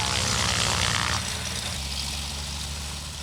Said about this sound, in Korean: 먼저 비행을 마친 동료들의 박수를 받으며 비행기는 서서히 활주로로 들어섰다